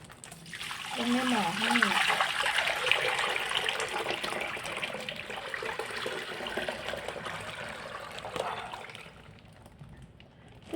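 Liquid is poured steadily into a pot while making fermented fish sauce (pla ra), a continuous splashing gush that tapers off after about nine seconds, with a voice briefly audible early on.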